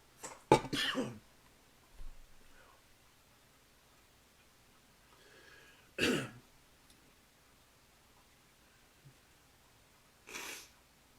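Someone clears their throat harshly and coughs in a few separate rough bursts, spaced seconds apart with quiet stretches between.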